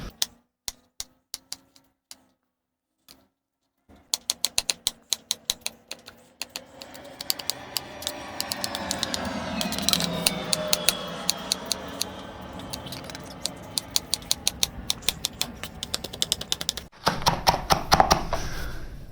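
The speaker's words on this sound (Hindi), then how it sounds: "अब टमाटर है, इसको भी ऐसे काट लेंगे" A knife chops tomatoes finely on a cutting board for a mixed vegetable raita, first in sparse single taps, then in fast, dense, sharp clicks with some scraping, close and clear.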